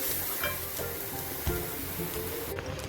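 Coconut filling for modak sizzles steadily in ghee over a low flame, with soft scraping from the stirring spoon running under the close, continuous frying sound.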